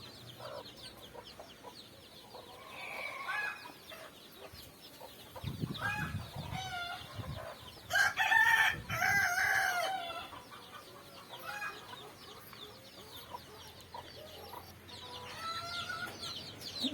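Native chickens cluck and chatter nearby, a hen with chicks, with a louder burst of fowl calls in the middle and softer peeping throughout.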